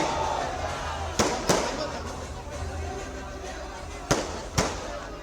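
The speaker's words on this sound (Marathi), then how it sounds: "फटाके बंद करा" Several sharp firecracker bangs burst at irregular intervals over a noisy crowd at a BJP victory celebration in Mumbai, two close together, then a pause, then two more.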